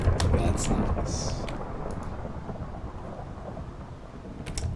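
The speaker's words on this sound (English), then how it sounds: "Thunderstorm." Thunder from a Minecraft thunderstorm rolls as a deep, continuous rumble mixed with rain hiss, loudest at the start, easing through the middle and swelling again at the end, with no voices.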